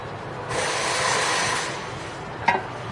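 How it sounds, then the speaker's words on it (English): A rear brake caliper on a BMW X2 is wiggled off with a brief rubbing, scraping scuff, then a single sharp metallic knock, close and fairly quiet. "Now just wiggle your caliper off"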